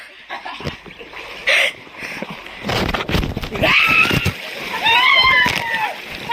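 Water splashes and sloshes around in a swimming pool amid loud shouting and excited voices, with people talking over the noisy, echoing splashing.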